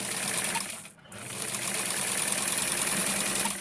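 Sewing machine stitching a fold of fabric, a steady dense close whir that drops out briefly near the start and then resumes evenly.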